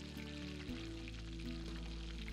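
Butter and onion begin cooking in a pot over the heat, a soft steady sizzle under a sustained low background hum, with no talk.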